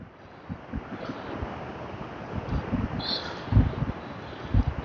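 Ocean surf at Smyrna Dunes, New Smyrna Beach, at sunrise: a continuous wash of waves under gusty wind buffeting the microphone, with soft low thumps scattered through.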